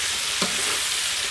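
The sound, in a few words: onion, tomato and vegetables sautéing in oil for sambar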